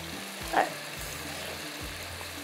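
Dal with tomato and onion simmering on a slow flame in a home kitchen, a steady soft sizzle and bubbling with a few low thuds, close and continuous throughout.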